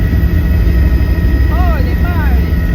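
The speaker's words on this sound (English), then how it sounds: "Here's a video of me on the helicopter." Loud, steady engine and rotor drone recorded from inside a helicopter in flight, a constant dense roar with no pauses, overlaid by a thin high whine.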